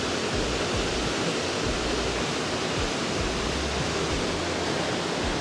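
A waterfall in Norway roars loud and close, its dense, unbroken rush of water steady throughout with no voices.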